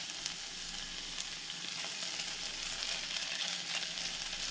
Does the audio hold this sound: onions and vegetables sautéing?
yes